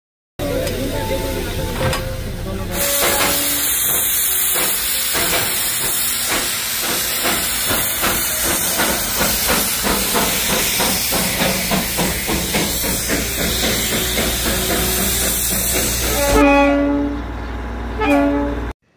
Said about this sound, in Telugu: ఇది డీజిల్ ఇంజిన్ ట్రైన్, ముందు వెళ్ళిందేమో స్టీమ్ ఇంజిన్ ట్రైన్